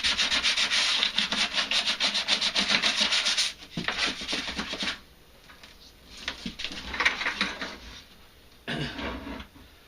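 Sandpaper rubs back and forth against the inside of a plastic bucket, a dense run of rapid rasping strokes that pauses briefly, then resumes in shorter bursts, close and fairly loud with no talk.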